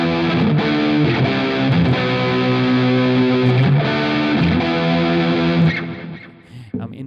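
Electric guitar played through humbucker pickups with added distortion, sustained overdriven chords and notes ringing out loudly before fading at the end.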